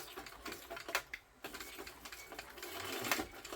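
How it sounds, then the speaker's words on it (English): A sewing machine stitches back and forth over a garment seam where pieces join, giving a steady rattling needle chatter with a brief pause midway, close and alone without talk. "I'm going to back stitch over my sort of the side the seams here where we join."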